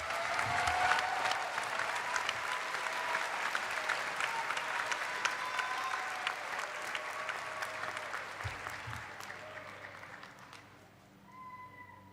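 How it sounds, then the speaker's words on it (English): Audience applause for a graduating nursing and optometry class at a commencement ceremony, a long, loud, sustained roar of many hands clapping that gradually thins and fades toward the end, with a few voices. "Let's share a round of applause and respect for these graduates."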